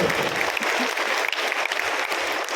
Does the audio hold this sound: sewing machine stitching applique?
no